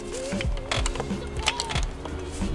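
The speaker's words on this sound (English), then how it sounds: "Loosen up all these 12mm manifold bolts," Someone loosens 12mm upper intake manifold bolts on a Hyundai Genesis Coupe, producing close, creaky ratcheting clicks and squeaky metal turns in quick irregular bursts.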